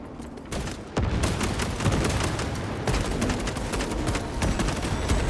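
Rapid, dense gunfire in Space Marine 2, sustained bursts of shots rattling continuously at close range with heavy booming undertones.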